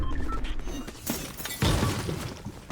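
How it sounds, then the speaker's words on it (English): Glass panels shatter in a video game, a loud crashing break followed by a longer spray of smashing and tinkling shards over busy game background noise. "Oh, you can break the glass panels?"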